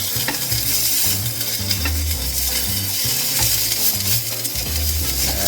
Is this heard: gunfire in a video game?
no